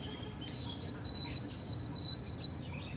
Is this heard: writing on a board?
no